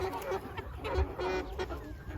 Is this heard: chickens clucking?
yes